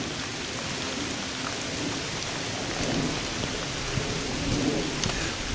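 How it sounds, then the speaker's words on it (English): Steady rain falling at the portal of a 1916 railway tunnel in the Cascades, a constant broadband hiss with scattered drips and soft patters close by, no voices. "it's raining"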